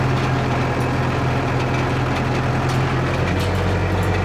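A tractor engine idles steadily nearby with a low, even hum and a constant throb that does not change, and no one speaks over it.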